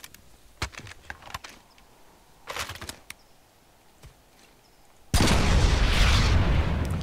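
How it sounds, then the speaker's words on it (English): Empire-specific rocket launcher in Planetside 2 firing missiles at a Sunderer vehicle: a few soft clicks, then a sudden loud, sustained roaring blast that fills the second half. "So 4 missiles, not quite enough to kill a Sunderer, but it's enough to get it to be burning."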